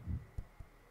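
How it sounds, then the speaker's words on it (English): A video game sound effect plays a heartbeat during a tense pool shot: one soft, muffled thump followed by two quick low beats, faint and alone. "you can hear the heartbeat. That is my heartbeat pumping."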